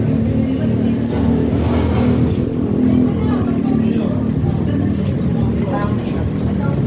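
Loud steady engine drone of many motorcycles nearby at a school, with revving motors and a murmur of voices underneath.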